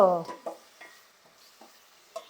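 Masala for an egg curry fries and sizzles in a pan, with a loud burst of stirring at the start and then a few softer scraping stirs against the sizzle.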